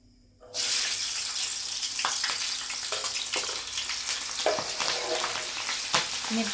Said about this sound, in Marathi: चला आता पहिले आपण मिरच्या तळून घेऊया.